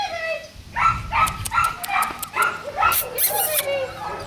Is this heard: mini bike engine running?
no